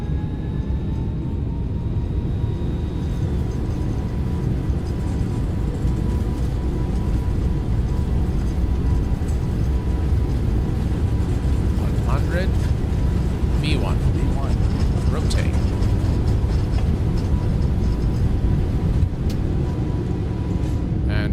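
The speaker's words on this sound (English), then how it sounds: "Ladies and gents, we are cleared for takeoff." Boeing 777-200ER jet in X-Plane 12 taking off from Kennedy International: a loud, steady broadband engine roar that continues throughout, with a few brief higher tonal whines partway through.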